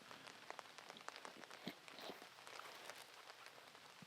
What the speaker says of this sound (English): you can hear the rain trickling there